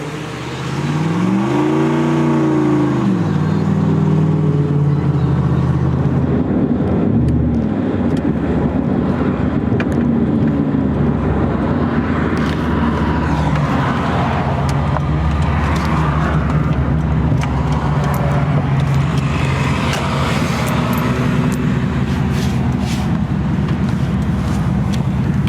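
A 1JZ-swapped Nissan 240SX drift build driving on the road, engine droning loudly from inside the car with rising and falling revs early on, then steady cruising under heavy wind rush.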